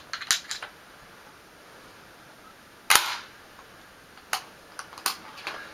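An Ithaca 51 shotgun action cycling a homemade 2 3/4 inch spent-shell dummy cartridge: a few sharp metallic clacks and clicks, one loud snap near the middle, close and isolated against a quiet background.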